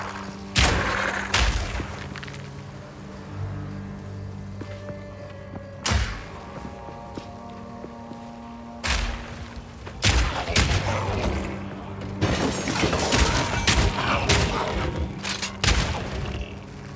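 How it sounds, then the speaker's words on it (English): Explosive grenades detonate in the action RPG Path of Exile 2, giving a run of heavy booms spaced irregularly, some single blasts and some clustered in quick succession, loud over a low rumbling game backdrop. "Explosive grenades have a long fuse, but deal. Fire in the hole!"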